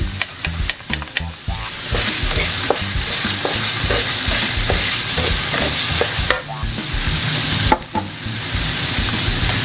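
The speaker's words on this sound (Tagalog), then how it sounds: "May mantika na to, Let's add more. And then, mag-iisa na tayo ng onions." Onions, with a little celery, sautéing in cooking oil for pancit bihon sizzle steadily while a utensil stirs and scrapes the pan, with a busy clatter of irregular knocks over a continuous frying hiss.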